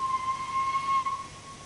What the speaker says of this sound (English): Little toot the whistle